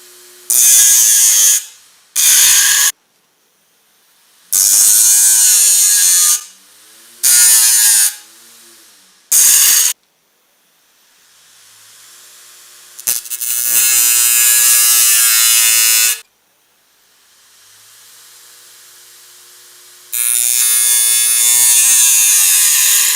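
A homemade grinder built from a PC hard disk sharpens a traditional desi knife, giving loud bursts of high-pitched whirring and grinding that start and stop in short repeated passes, then a longer quieter spin and a final loud run.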